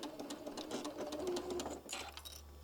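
Sewing machine stitching a few stitches forward then backward on a drawstring project, a quiet rapid mechanical whirr with fast repeated needle clicks in short bursts, no talking.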